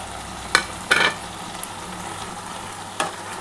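Potatoes fry with water spinach in a pan: a steady low sizzle with a few sharp bursts of crackle as the pieces are stirred, close and alone.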